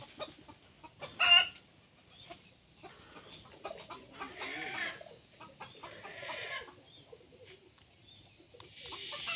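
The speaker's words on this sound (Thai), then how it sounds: "มีไก่เลย" Chickens cluck and squawk nearby in a busy outdoor setting, with one loud burst early on and steady scattered clucking after.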